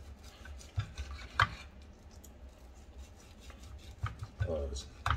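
Knife slicing a cast-iron-seared flank steak on a bias, producing soft scraping and tapping against a cutting board, with a few sharper knocks, close and fairly quiet amid low room noise and no speech.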